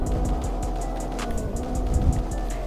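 A hatchback car engine in the video game Greenville idles and revs with a steady low rumble and a rhythmic pulsing hum, close and continuous, without any talking.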